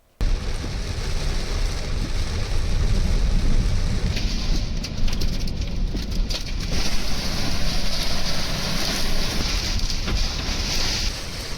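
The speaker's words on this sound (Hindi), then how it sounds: "यहां तेज हवाओं के साथ जमकर बारिश बरसी" Heavy unseasonal rain pours down with strong gusting wind during a May storm in Gujarat, a dense, continuous roar of rainfall and buffeting wind close by with no voices.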